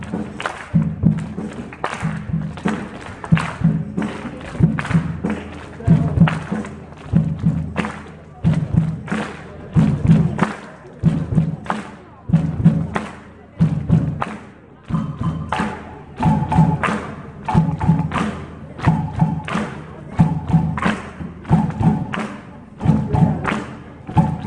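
Deep, regular thuds of an audience clapping along repeat at a steady beat for a long stretch at a music school recital, with faint crowd noise underneath.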